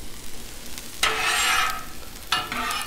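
Vegetables fry on a Blackstone griddle, with a quiet sizzle that surges into two loud hissing bursts as food is stirred or added, close and without talk.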